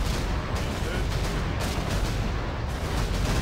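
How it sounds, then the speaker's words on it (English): Rapid volleys of dwarven cannon fire from a Warcraft 3 artillery ability rain down as a dense, continuous barrage of booming blasts, loud and filling the whole moment without pause. "Rain of Dwarven Cannons."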